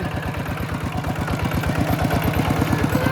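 A walking tractor engine runs close and loud on farmland, its quick, regular chugging beat steady and unbroken with no voices over it.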